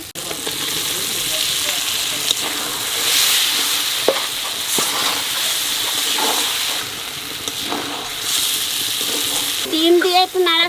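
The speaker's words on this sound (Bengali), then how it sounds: "মশলা কষানো হয়ে গেছে এইবার ডিম দিয়ে দেবো" Eggs going into a pan of fried spice masala for a thin egg curry with onion and potato: a steady, close sizzle and hiss with scattered stirring clinks, and a voice briefly speaking near the end.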